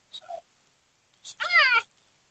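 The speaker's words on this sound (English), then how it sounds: "Oh my goodness, there's a kitty." A cat meows twice nearby, first with a short chirp and then with a longer, louder drawn-out meow, against near silence.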